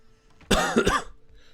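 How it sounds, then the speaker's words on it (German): A single harsh cough in two quick bursts, close to the microphone and loud, with a brief throat-clearing quality and no other sound around it. "sorry für den Hust"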